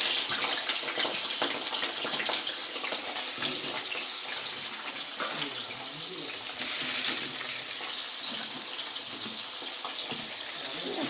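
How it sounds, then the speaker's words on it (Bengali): Potatoes frying in oil for biryani, a continuous close spluttering hiss with crackling bursts, fairly loud and steady with no talk. "চটপট চটপট হচ্ছে, যে তেলে দিয়েছি।"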